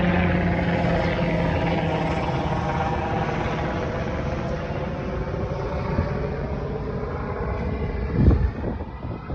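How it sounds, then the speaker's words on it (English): A helicopter passes overhead, a steady, fairly loud rotor and engine drone lasting throughout with a brief louder burst near the end, heard alone without talk. "I'm gonna wait till this helicopter go over."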